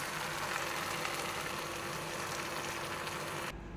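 Fried karapendalam tuber being tipped into a pan of fish curry with coconut and stirred, a steady close sizzle and frying hiss throughout that cuts off abruptly near the end.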